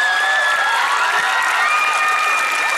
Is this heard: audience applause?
yes